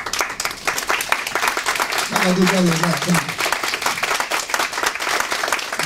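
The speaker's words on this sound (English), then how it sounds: "I want to give them some warm vibrations and appreciation through your round of applause" An audience at a presentation gives a steady round of applause, loud and continuous, while someone speaks briefly over the clapping partway through.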